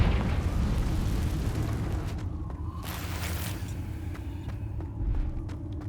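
A Confringo spell blast in Hogwarts Legacy sets off a loud, rumbling explosion that sustains a heavy roar throughout, with sharp crackling bursts layered over the low boom.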